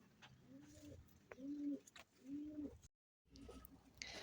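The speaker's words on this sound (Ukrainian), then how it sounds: "Голуби пасуться на свіжій зелені," Pigeons coo close by in a few soft, throaty rolling phrases, with quiet background noise and a brief gap.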